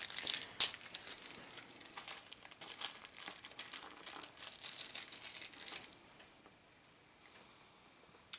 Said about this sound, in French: Ils te font quand même encore ouvrir un sachet en plus ici